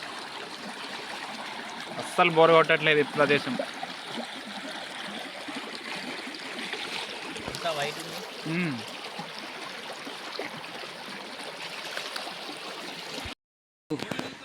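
Steady flowing stream water rushes throughout, with people talking over it in the first few seconds and again briefly later.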